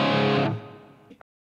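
A single distorted electric guitar chord through a Line 6 Helix with effects off rings out loud and buzzing, then is cut short and decays into a faint hum before a small click and silence.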